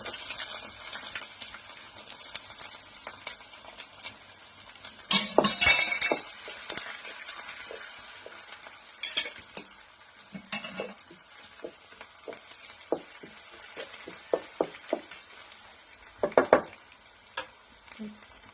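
Coconut pieces frying in a pan with ginger and garlic, a steady sizzle broken by louder bursts of stirring and scraping, with occasional clinks of a utensil against the pan.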